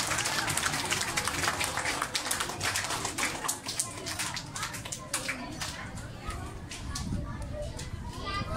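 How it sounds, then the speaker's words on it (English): Children at a Christmas school gathering clap for Teacher Jane, with scattered, crackling applause running throughout, mixed with lively children's voices and chatter. "Let's give her a round of applause."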